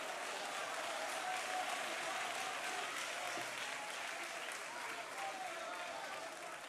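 Many worshippers in a church clap their hands together in a sustained, even roar of applause during a youth-week service, the dense clapping holding steady for several seconds with a faint murmur beneath it.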